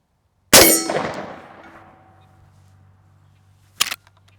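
A Henry lever-action .410 shotgun blast strikes a 16-inch steel gong, giving one loud, sharp clang that rings and fades slowly, followed a few seconds later by a second, shorter metallic hit.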